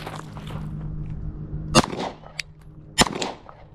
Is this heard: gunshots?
yes